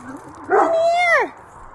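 A single short dog whine or yelp, rising then sliding down in pitch, heard once at moderate distance over faint background noise.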